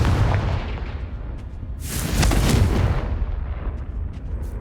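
A fiery Confringo spell blast from the Hogwarts Legacy video game on PC erupts loudly for about a second, a broad crackling burst over a rumbling game soundscape that lingers before fading.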